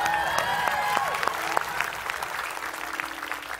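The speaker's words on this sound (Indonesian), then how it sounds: "Mana tepuk tangannya?" An audience at a magic show applauds, dense clapping with a few sharp louder claps early on that gradually thins and fades toward the end.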